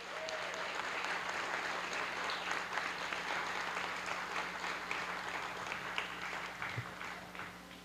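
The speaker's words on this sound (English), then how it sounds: "Can we have another huge round of applause for our recipients?" A large crowd gives a round of applause for scholarship recipients at the City of Boston Scholarship Fund award ceremony, sustained soft clapping heard from a distance, tapering slightly at the end.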